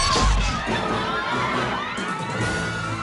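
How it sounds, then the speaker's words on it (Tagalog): Fans greeting Korean actor Lee Min-ho on his arrival in the Philippines scream in a dense, loud, high-pitched crowd roar that holds steady throughout. "hiyawan na ang sumalubong sa Korean actor na si Lee Min-ho"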